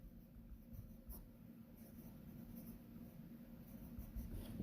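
Pencil or pen writes on paper while working a precalculus problem, a faint continuous scratching with small strokes, close and quiet, no voice.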